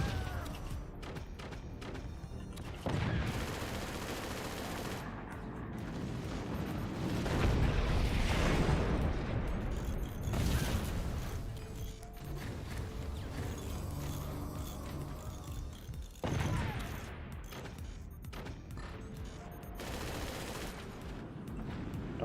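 Weapon fire and explosions in the Forts RTS game, an EMP weapon discharging amid heavy blasts: a dense, continuous barrage of booms and crackling gunfire, loud and sustained with several sharp surges and no talk.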